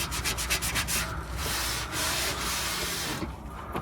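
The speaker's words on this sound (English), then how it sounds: "this is coming off a treat. And all it's taking is a little bit of rubbing." Dirt is rubbed off a surface by hand in quick repeated strokes at first, then longer steady scrubbing passes, close up and fairly loud with no talking.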